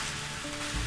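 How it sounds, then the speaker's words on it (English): Chicken sizzles in garlic oil in a pan, a short, steady, close crackling hiss that swells slightly toward the end. "you want to hear that sizzle."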